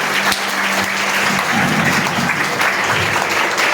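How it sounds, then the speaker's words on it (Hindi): A crowd applauds steadily, dense clapping filling the whole stretch with no pause, fairly loud and close. "तो सब एक अच्छी तरीके से तालियों के साथ उनका अभिवादन कीजिए"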